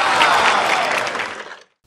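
Audience applause at a business seminar, a loud, dense burst of clapping that holds steady and then fades out abruptly into silence.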